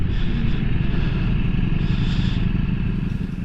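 Ducati Multistrada V4S motorcycle riding along, a steady, loud low engine drone with rumbling road and wind noise that continues without a break.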